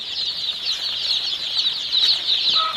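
Continuous fluttering of many Sonali super hybrid chicks' wings in a poultry farm shed, a busy, steady flapping texture with faint clucking underneath, fairly close.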